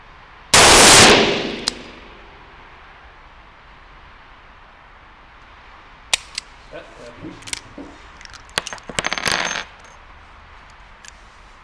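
A single loud, sharp shot from an MR88 DX .357 Magnum revolver rings out at a 25-metre shooting range, followed by scattered quieter mechanical clicks and handling noises.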